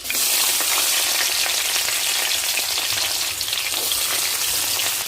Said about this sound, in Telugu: అట్లానే ఉల్లిపాయ వేసుకోవాలి